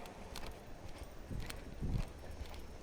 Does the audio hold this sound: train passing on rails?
no